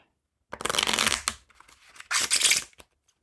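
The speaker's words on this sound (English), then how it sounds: "They do riffle a little bit, but they make a kind of scratchy noise with the cards." Two bursts of cards being riffle shuffled, each a quick scratchy flutter about a second long, close and fairly loud with silence between.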